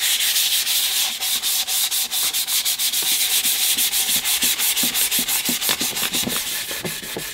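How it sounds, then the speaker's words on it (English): Sandpaper worked back and forth over a painted 3D printed bonsai pot, a steady rhythmic scratching of quick strokes, close and loud, with no talk. "here I go with the sandpaper."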